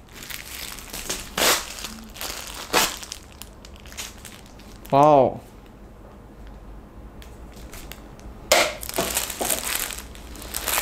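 Plastic T-shirt packaging stuck to tape is crinkled and pulled, giving several bursts of crumpling and tearing noise separated by pauses, with a person speaking briefly between them.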